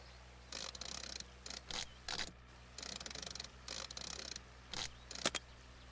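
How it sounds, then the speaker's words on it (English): A ratchet strap lever cranked around a pipe in the Pipe Fitter video game gives repeated quick bursts of sharp clicking, with short pauses between strokes, close and crisp over a faint hum. "Crank the ratchet lever all the way up and down a few times until the strap is tightly secured around the pipe"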